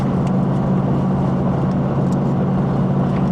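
Steady engine and road noise from inside a 2017 Nissan Titan half-ton pickup moving at about 50, a constant low rumble with no talking.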